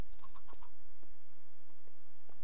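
Chickens in the video game Minecraft cluck in four quick, short blips over a steady background hum, with no talking.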